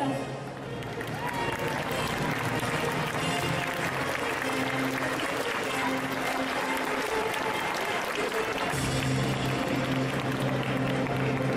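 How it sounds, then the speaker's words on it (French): Loud, dense applause from an indoor convention parade crowd, sustained for the whole stretch, with a slight swell toward the end. "Je vais vous demander, s'il vous plaît, de faire un tonnerre d'applaudissements"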